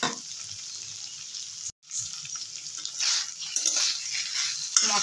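Vegetables sizzle and fry with spices in oil in a home kitchen pan, a steady hiss with scraping stirs and a brief pause midway, close and without talk.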